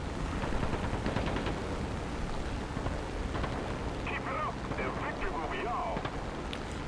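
Rapid aircraft machine-gun bursts from a Mörkö Morane fighter in War Thunder, a dense crackling stream of fire running steadily at moderate level alongside engine drone.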